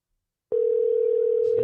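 A steady, single-pitched telephone tone starts abruptly after a short silence and holds evenly, fairly loud and close.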